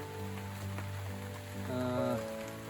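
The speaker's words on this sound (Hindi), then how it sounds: "और कई बार जैसे ऐसे बरसात शुरू हो गई" Rain falls in a dense forest on a hiking trail, a steady patter over the whole stretch with a faint tonal hum underneath and no voices.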